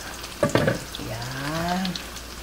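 Meatballs frying in deep cooking oil give a soft continuous sizzle with a few sharp clatters near the start, close and fairly quiet.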